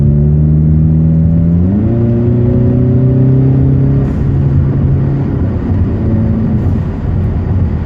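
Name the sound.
car engine with new exhaust tips, heard inside the car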